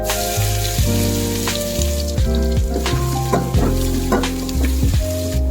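Bay leaf and ginger paste sizzle loudly in hot oil for vegetable biryani, a dense close frying hiss broken by repeated stirring scrapes, with no voices.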